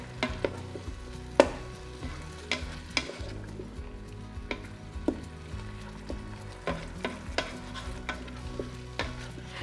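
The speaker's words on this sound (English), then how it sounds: "mix that in with the meat." Meat fries in a pan under a steady, soft sizzle while a utensil stirs and scrapes it, knocking against the metal in irregular clicks throughout.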